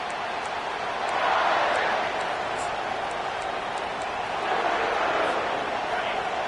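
Football stadium crowd roaring steadily at kickoff, a broad sustained wash of cheering that swells and eases, with a commentator talking over it.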